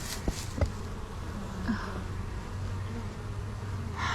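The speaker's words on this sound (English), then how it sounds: "Oh my goodness, this is a big old swarm." A large honey bee swarm buzzes steadily throughout, a continuous low drone with a couple of brief knocks near the start and no talking.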